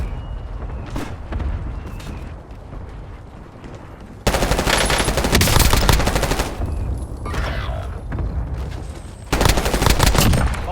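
Video game gunfire plays as loud, rapid machine-gun bursts in abrupt close volleys, with quieter single shots and mechanical clatter between them.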